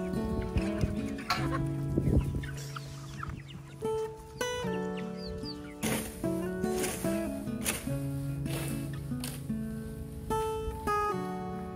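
Several chickens from a flock with mycoplasma cluck and squawk in overlapping bursts, close by, with a busy barnyard chorus running throughout and no talking.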